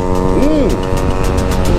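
A Huaihai Sparky electric scooter runs in mode 3, a close steady motor whine with layered tonal hum, a brief rising-and-falling pitch sweep partway through.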